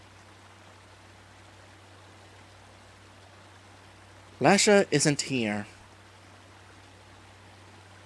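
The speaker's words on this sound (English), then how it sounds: "The sound of running water is so peaceful." Soft, steady running water hisses throughout at low level in an RPG Maker VX Ace game scene, briefly under a short spoken line, otherwise alone and unchanging.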